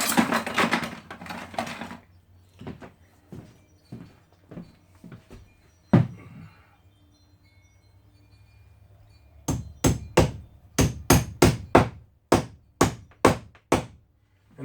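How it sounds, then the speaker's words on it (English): A hammer drives a metal nail plate into a 2x4 with a few scattered, moderate blows, a pause, then a quick run of about ten sharp strikes. The work is close by in a quiet space. "Let me go ahead and get a hammer, and I'll just show you."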